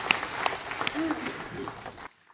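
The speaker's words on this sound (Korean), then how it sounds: "박수를 하나님께 드리겠습니다" A church congregation at a Sunday worship service claps together, a brief burst of applause with a voice briefly heard over it, ending abruptly into near silence.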